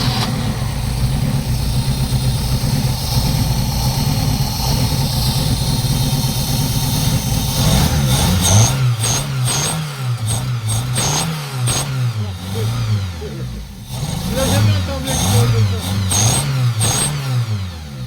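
Opel Calibra 2.0 8V engine running steadily, then revved in repeated rising and falling bursts, loud and close with no talking.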